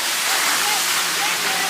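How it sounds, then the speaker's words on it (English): Waterfall on Madeira island pouring down in a steady, loud broadband roar of splashing water, continuous and close, with no pauses across the short stretch. "I'm getting wet under the waterfall"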